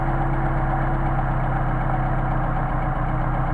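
A Mercedes 190SL engine on Solex carburetors idles in freezing 29ºF cold, a steady low rumble with a rhythmic beat that wavers and stumbles slightly near the end, heard close and alone.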